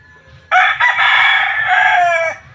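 Young gamecocks (stags) in a coop crow loudly and close by, one long strained crow lasting about two seconds, with low clucking beneath it.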